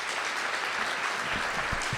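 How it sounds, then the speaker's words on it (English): Steady audience applause after a live theatre show, a continuous wash of many hands clapping at moderate loudness with no pauses. "A big round of applause"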